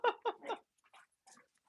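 A few short yaps and whines from dogs at a house, three quick loud bursts followed by fainter scattered squeaks and whimpers.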